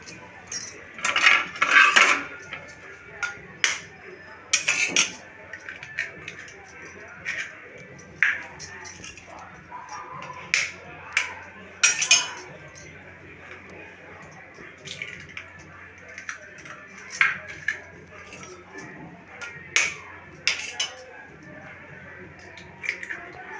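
An egg being mixed in a bowl for rose cookie batter, rapid bursts of a metal spoon or whisk clinking against the bowl in uneven clusters, close, with brief pauses between rounds.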